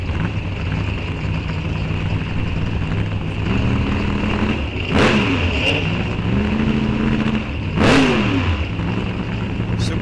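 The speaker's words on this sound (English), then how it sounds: "Supercharged big block Chevy, 540 cubic inches." A 1953 Studebaker Commander drag car with a supercharged 540-cubic-inch big block Chevy rumbles and revs loudly at a raceway, its steady idle broken by sharp throttle blips. An announcer talks over it.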